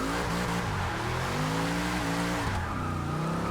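Engine of a Chevrolet Impala lowrider drift build in Forza Motorsport 6, a steady loud roar that climbs in pitch as it revs up, with a brief dip near the end before pulling again; no talking.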